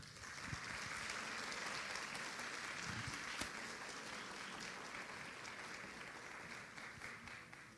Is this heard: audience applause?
yes